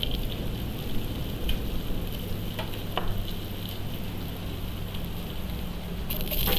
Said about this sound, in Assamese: ইয়াত পিঁয়াজখিনি দি ল'ম আৰু পিঁয়াজখিনি অকণমান ৰঙা হোৱালৈকে ভাজি ল'ম